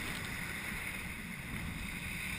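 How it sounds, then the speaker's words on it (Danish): Strong wind howls at sea around a sailing dinghy on a trip around Funen, a steady, dense rushing roar that fills the whole stretch with no pause and no voices. "det blæser vanvittigt meget"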